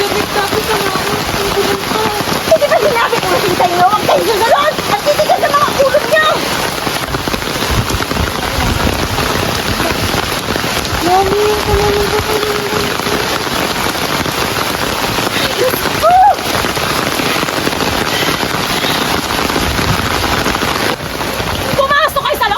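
Heavy rain pours down in a steady, dense patter that lasts the whole stretch, with shouting voices heard intermittently over it.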